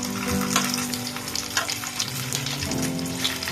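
Stuffed pointed gourd (potol) filled with prawn frying in hot oil, giving a loud, continuous close-up sizzle and crackle without a break.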